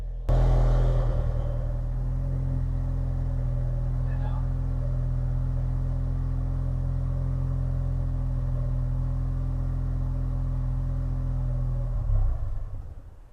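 A 2016 Ford Mustang EcoBoost engine idles with a steady low rumble for several seconds, then sputters and cuts out near the end as fuel pressure is relieved, leaving near silence.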